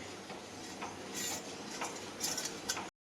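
A utensil stirs a sukhdi mixture of flour and ghee in a pan, making soft, quiet scraping and ticking sounds with a few sharper clicks, before the sound cuts off.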